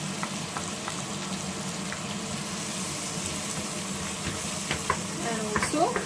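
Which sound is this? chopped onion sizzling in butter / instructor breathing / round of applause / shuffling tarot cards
chopped onion sizzling in butter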